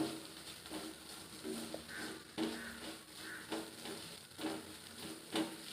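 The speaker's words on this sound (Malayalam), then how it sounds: "മുരിങ്ങയിലും മുട്ടയും നല്ലോണം ചിക്കി കൊടുക്കണം" Drumstick leaves and egg stir-fried in a pan, a soft steady sizzle with scraping stir strokes recurring every second or so, close and moderately quiet, no talking.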